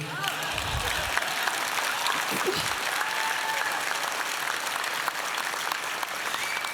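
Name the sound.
audience applause at city event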